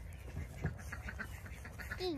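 A duck quacks close by on a farm, a quick run of soft, rhythmic quacks over faint background noise, with a brief higher chirp near the end.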